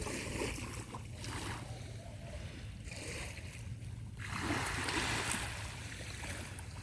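Waves wash in a continuous rushing roar, swelling louder toward the end, heard close with wind and water noise and no talking.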